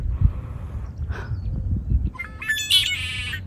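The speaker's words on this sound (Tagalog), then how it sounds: "yung huni ng ibon na to." An unfamiliar bird calling in a California park, bursts of chirps and whistled notes with a rising squawk-like phrase near the end over low outdoor rumble, fairly close and clear, with no talk.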